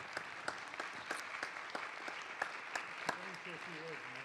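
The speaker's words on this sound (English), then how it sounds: "I want you to join me in giving these angels a huge applause." Applause at a city council meeting, scattered clapping from a modest crowd in a hall that starts sparse and stays light, quiet and somewhat distant, with a voice speaking toward the end.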